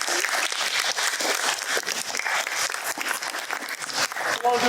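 A dense burst of applause from a school audience for a student team presenting at a Shark Tank-style event, continuous clapping that stays loud throughout, with a faint tonal sound near the end.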